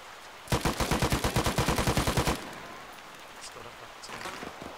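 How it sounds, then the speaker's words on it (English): Rapid automatic gunfire in Arma 3 set in Afghanistan, a tight burst of about fifteen evenly spaced shots over two seconds, loud and close, followed by faint distant pops. "I just hear shots"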